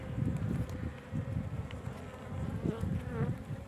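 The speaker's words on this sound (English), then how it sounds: "I've got bees covering almost every frame" A dense, steady drone of many bees buzzing up close, a continuous layered hum with occasional louder individual passes.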